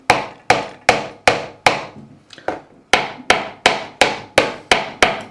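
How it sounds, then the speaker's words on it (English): Fretting hammer tapping frets on an Epiphone Les Paul Special guitar: a dozen sharp, evenly spaced knocks, loud and close, with a brief pause of lighter taps midway. "we're just going to tap the frets in"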